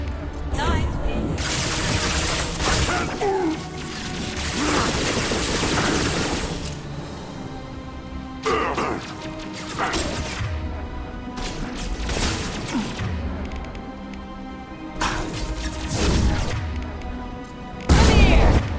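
Heavy gunfire in the sci-fi shooter Mass Effect 2, modded, during a prison-ship mission: long stretches of dense rapid shooting and booming impacts broken by short pauses, with a loud blast at the end and voices talking over the combat.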